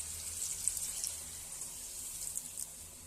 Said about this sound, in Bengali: আমি এবার অল্প করে জল দিয়ে দিচ্ছি